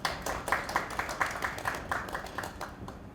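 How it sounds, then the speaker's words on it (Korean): Audience applause welcoming a university vice president to the podium at an arts education forum, heard as a moderate run of rhythmic clapping from a medium-sized crowd, steady for about three seconds and fading slightly at the end. "박수로 맞아주시면 감사하겠습니다."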